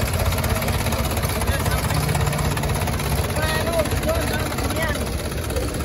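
Steady low jeepney engine rumble idling close by, with people talking over it throughout.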